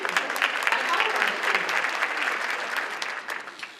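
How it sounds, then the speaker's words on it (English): Steady audience applause at an awards luncheon celebrating students, dense and continuous clapping filling the room for several seconds before tapering slightly. "You can clap for them, they're awesome students"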